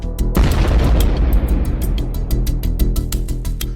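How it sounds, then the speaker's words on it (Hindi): A small drone-dropped shuttlecock grenade blasts on a T-72 tank with one heavy boom, followed by a dense crackle of sharp pops and bursts that carries on throughout. "छोटा ग्रेनेड छोटा धमाका करता है"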